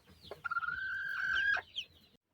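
A broody hen with freshly hatched chicks lets out a drawn-out, nasal cluck followed by a short call, close and clear in an otherwise quiet space.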